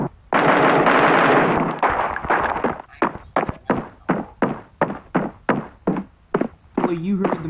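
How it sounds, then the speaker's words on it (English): Rapid bursts of gunfire in the first-person shooter Bullet Force, a long sustained automatic burst followed by a regular train of loud, evenly spaced shots, with voices talking over it. "Wait, you heard them gunshots?"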